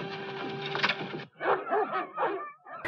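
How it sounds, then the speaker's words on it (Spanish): A dog gives a short run of yelping barks and whimpers after a steady mechanical hum, fairly close and moderately loud, in an old classic adventure film. "¿Qué le ocurre a este perro?"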